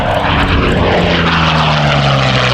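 P-40 Kittyhawk fighter aircraft engine roaring loud and close, a dense, rough propeller drone with a steady pitch that shifts slightly as it passes.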